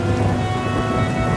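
Steady rain in an animated story, a dense continuous wash with a low rumble beneath, alone and fairly loud for a brief moment.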